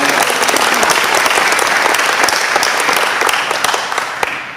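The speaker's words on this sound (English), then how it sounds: "let's give Debbie a big round of applause" A club meeting audience gives loud, sustained applause for Debbie, many hands clapping close and full for several seconds before tapering slightly at the end, with no voices over it.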